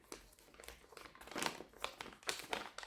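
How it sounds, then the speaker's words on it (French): A delivered parcel being opened up close, with quick bursts of crinkling and crumpling packaging in irregular rustles, fairly faint and with no voices. "On va ouvrir le paquet, le colis qui est arrivé"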